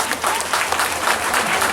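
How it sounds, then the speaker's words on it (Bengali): A crowd at an annual puja and cultural event gives loud hand clapping in honour of a guest, a dense, even roar of applause sustained throughout. "তার জন্য একটা জোরে হাততালি"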